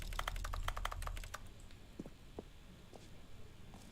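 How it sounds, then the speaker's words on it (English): Rapid keyboard typing and button pressing in The Stanley Parable, a quick burst of crisp clicks that stops after about a second, followed by a few scattered, fainter taps. "Who's like typing. pressing buttons?"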